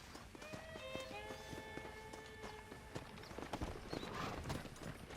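Rhythmic clip-clop of horse hooves with an occasional whinny during horse breaking in Red Dead Redemption 2, mixed with game music tones and some background voices.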